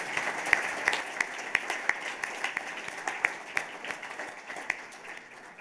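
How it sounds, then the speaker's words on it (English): Audience at a journalism awards ceremony applauding, a moderate, somewhat distant wash of many hands clapping with a few sharper individual claps standing out. "You may now clap."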